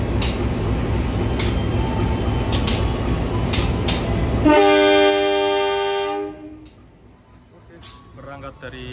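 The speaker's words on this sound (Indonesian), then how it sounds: "Kita rekam dulu untuk suling lokomotifnya." The locomotive of the economy-class Kahuripan train sounds a long, sustained horn as it departs Kertosono station, loud and close over the steady rumble of the railway, then fading as the train pulls away.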